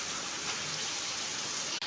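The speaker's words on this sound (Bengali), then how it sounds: "কেমন বৃষ্টি হচ্ছে বুঝতেই পারছো" Heavy rain falls steadily outside a home, a dense, even hiss of drops on surfaces that fills the short stretch without a break and with nobody speaking.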